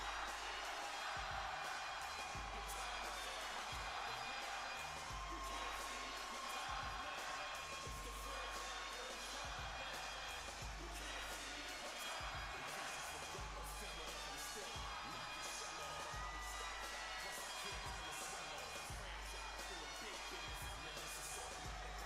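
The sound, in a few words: wrestling arena crowd cheering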